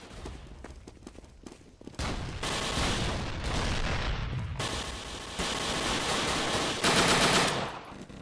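Machine gun fire in the WWII dinosaur shooter Dino D-Day, starting with scattered distant shots, then loud sustained automatic bursts up close, briefly pausing between volleys, with no talking.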